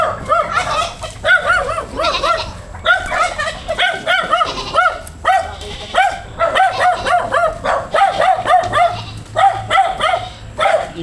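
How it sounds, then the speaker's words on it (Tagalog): A dog barks and yips repeatedly in quick, uneven bursts, close and loud, with some whiny tones mixed in and faint voices underneath. "maingay yung aso"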